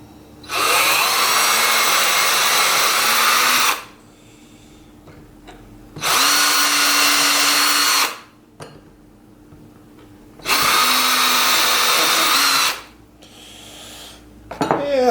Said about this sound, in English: drill some holes in this, and then I can mount it to the wall